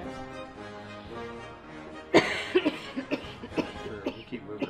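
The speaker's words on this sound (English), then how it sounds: "I'm sorry, I'm coughing." A sudden burst of coughing breaks in after a quiet stretch, followed by a series of shorter coughs or throat-clearing sounds at irregular intervals.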